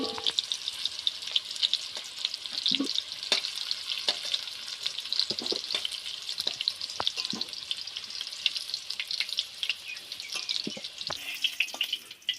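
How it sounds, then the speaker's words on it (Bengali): Potatoes frying in hot oil make a bright, continuous hiss and crackle, with scattered clinks and splashes as the fried pieces are scooped out of the pan. "তো এখন আলুগুলো ভালোভাবে ভাজা হয়ে গেছে। তো এবার তুলে নিচ্ছে আলুগুলো।"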